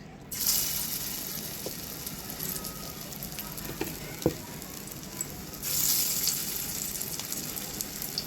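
Hot oil sizzles in a pan while fig kebabs fry, a steady crackling hiss with a few soft knocks and a louder surge of sizzling toward the end.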